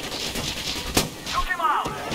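Metro Exodus gunfire from a firefight: a sharp shot cracks out midway among clattering background combat, with a whistling ricochet-like sound trailing after.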